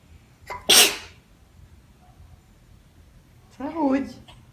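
A single loud sneeze bursts out near the mic, followed a few seconds later by a short spoken reply in a quiet room.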